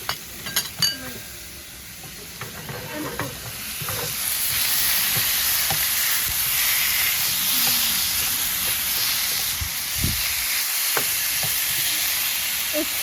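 Siga beef cooking in a pan for white tibs, a steady broad sizzle and hiss that swells and holds, with light utensil taps and stirring knocks scattered through it.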